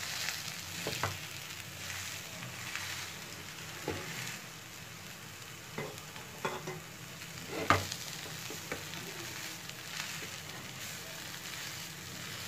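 Ingredients for potato cutlets fry briefly in a pan with mashed boiled potatoes added, giving a steady soft sizzle with occasional stirring clinks and scrapes, close and moderately quiet, no talking.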